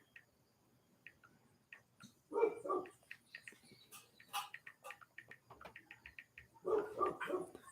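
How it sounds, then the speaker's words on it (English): The neighbor's dogs bark outdoors in two short bursts of several barks each, at moderate distance, with insects chirping and faint birdsong in the background. "That's neighbor dogs, not our dogs."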